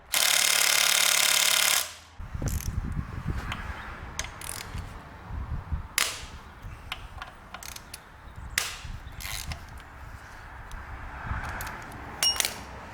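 Bolts being loosened on a Toyota Corolla engine, with a loud burst of steady hiss at the start followed by close, irregular ratcheting clicks, metallic clinks and tool knocks under a low mechanical rumble.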